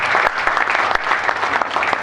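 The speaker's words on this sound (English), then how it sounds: "Please, let's clap for them." A crowd at a graduation ceremony claps steadily and loudly throughout, a dense, continuous round of applause with no voices on top.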